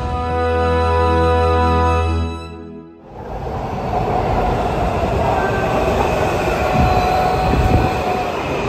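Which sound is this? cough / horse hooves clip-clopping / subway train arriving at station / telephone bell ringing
subway train arriving at station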